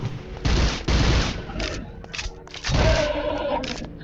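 Rapid bursts of video game gunfire aimed at demons, loud and close, with a couple of sustained volleys separated by brief gaps and faint voices underneath.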